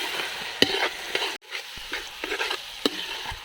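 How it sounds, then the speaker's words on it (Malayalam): Steady stirring of a chilli pork sauce with ground black pepper in a pan, with a soft sizzle of frying and repeated scraping strokes close up, no voices. "എന്നിട്ട് നന്നായിട്ടാണ് ഇളക്കാണ്ട്."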